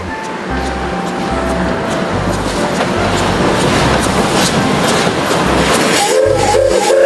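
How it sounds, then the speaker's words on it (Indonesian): A toy Thomas train runs continuously, its motor whirring and wheels clacking steadily throughout with a rhythmic low thumping, while a person talks nearby. "Yang ini ada kereta Thomas."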